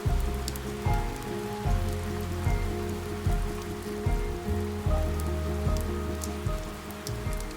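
Heavy rain pounds steadily on a camper roof at a lakeside campground in British Columbia or the Yukon, a dense, continuous patter with louder surges and drips, close and with no voices.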